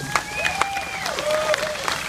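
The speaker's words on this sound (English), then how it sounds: "You can just keep clapping the rest of the afternoon." A crowd at an outdoor press conference for a steam locomotive homecoming claps steadily in a dense, continuous burst of applause, with voices mixed in and a faint whistle-like tone rising and falling over it.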